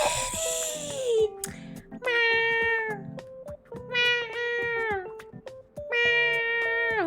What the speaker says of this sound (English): I'm communicating with the cat.